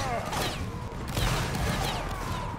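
Musket volley fire in the Napoleonic Wars video game, a dense stream of overlapping distant shots and crackling reports that runs continuously, with no spoken voices.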